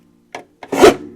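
A paper cutter trims a tiny sliver off the edge of a blank book cover, two short dry scrapes followed by a louder, longer slicing rasp, close and clear.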